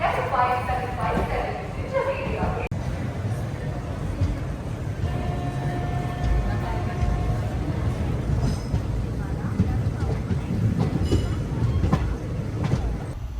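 A white MEMU train bound for Narasapur rumbles past with rhythmic clattering of wheels on rails, loud and steady throughout, heard from aboard another moving train.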